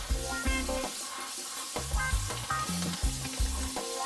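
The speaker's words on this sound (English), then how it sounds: "Got some Smithfield pork fatback I'm gonna cook today." Slices of Smithfield pork fatback frying, a dense steady sizzle and crackle with periodic scraping or stirring sounds, close and unaccompanied by speech, over a tonal background hum.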